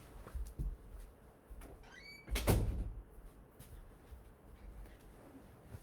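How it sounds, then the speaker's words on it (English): A door is shut with a single solid thud midway, preceded by a brief squeak of the hinge, close by in a quiet indoor room. "Let me shut the door really quick."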